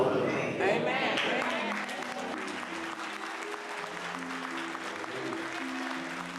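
A church congregation rises in a standing ovation, sustained applause and crowd noise filling the room steadily from start to finish, with some voices mixed into the clapping.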